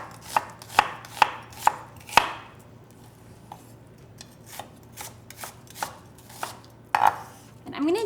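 A knife cuts a red onion into thin slices on a board, giving a series of sharp, separate chops with short pauses between them, close and crisp, with softer taps and scrapes later on.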